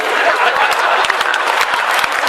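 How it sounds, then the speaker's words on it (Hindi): An audience at a Hindi poetry gathering claps loudly and densely, a brief burst of applause that stays close and strong throughout with no voices over it. "अनु सपन जी आप भी तालियां बजाओ"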